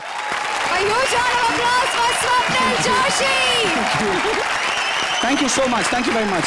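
Studio audience applause on a Hindi comedy show stage, loud and steady throughout, with a host speaking over the clapping.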